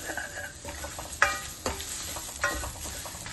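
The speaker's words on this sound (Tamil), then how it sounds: "இது ஒரு பொன்னிறமா வறுந்து வரணும். நல்லா இந்த கோகோனட் எல்லாம் கிறிஸ்பி ஆகணும்." Grated coconut roasting in a pan, a soft frying hiss broken by a few sharp scrapes and taps of a spoon stirring it, close but fairly quiet, no voices.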